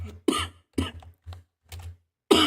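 A series of four or five sharp coughs spaced about half a second apart, close and fairly loud, with brief silences between.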